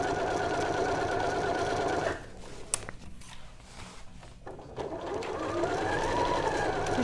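A sewing machine stitches a woven skirt with an elastic waist, running steadily and close, slowing briefly in the middle before picking back up to a continuous whir.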